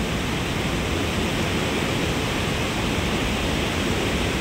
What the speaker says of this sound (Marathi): बघा मित्रांनो कशा लाटा एकदम जबरदस्त अशा आदळत आदळत खडकाव आपटत राहता नाही का